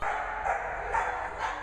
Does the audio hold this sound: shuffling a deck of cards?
no